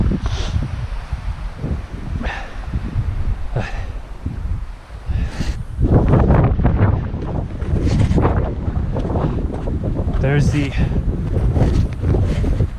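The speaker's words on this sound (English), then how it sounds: "it gets so windy up here" Strong gusting wind high on Mount Olympus buffets the microphone with loud rumbling roar, rising and falling, while people's voices come through intermittently.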